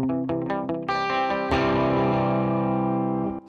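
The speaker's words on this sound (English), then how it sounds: "the stereo delay is going side to side, so it's just a different sound" An electric guitar plays through a stereo delay on a Headrush pedalboard, picked notes and a sustained ringing chord trailing off into repeating echoes until it cuts off abruptly.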